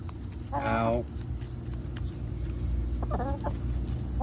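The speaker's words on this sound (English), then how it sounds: "This is chickens getting mealworms." Backyard chickens cluck while pecking at mealworms: two short bursts of clucking, the first louder and the second softer, set against a low steady background hum with no voices.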